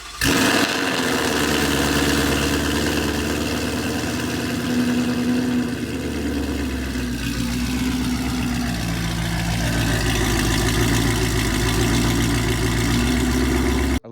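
A 2019 Ford Mustang GT V8 with Corsa catless headers, mid pipe and Corsa active exhaust idles steadily and loudly up close, a deep continuous rumble with a slight dip and lift in the middle, no voices.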